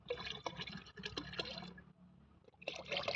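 Water poured out to make about fifteen liters for mixing organic compost liquid, a steady splashing pour that pauses briefly and then resumes at close range.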